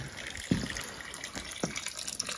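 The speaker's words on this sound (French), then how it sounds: "J'entends encore de l'eau couler." Water runs steadily somewhere in a dark, abandoned orphanage at night, a continuous splashing flow with a couple of low knocks and drips, fairly close and without talk.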